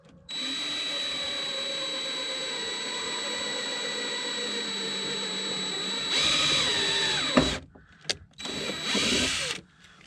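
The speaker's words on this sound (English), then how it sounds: "I'm gonna drill another bolt hole right here on the side" A power drill whirs steadily for several seconds while drilling a bolt hole during a radio install in a 1994-97 Honda Accord, rising in pitch and strain near the end before stopping, then a few short bursts follow.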